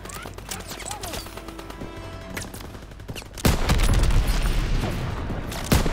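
Call of Duty: WWII D-Day battle: scattered gunshots crack over a quieter background, then a loud boom hits and sustained heavy gunfire and rumbling carry on, with no talk.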